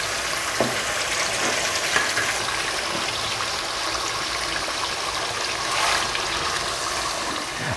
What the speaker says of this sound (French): je vais dorer la viande sur toutes les faces